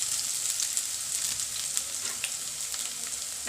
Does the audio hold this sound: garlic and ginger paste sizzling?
yes